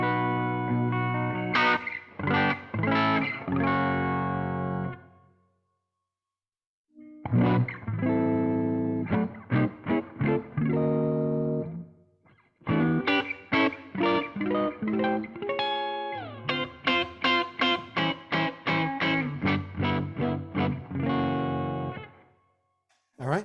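Electric guitar played through a Dunlop Cry Baby Joe Bonamassa signature wah pedal, loud distorted phrases of strummed chords and picked notes in bursts separated by short pauses.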